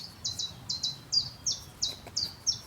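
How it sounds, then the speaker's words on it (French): A small bird chirps overhead in a repeating series of about eight bright, short descending notes, steady and moderately clear above a quiet outdoor background with no speech. "L'oiseau là au-dessus, lui, il n'est pas à court de paroles."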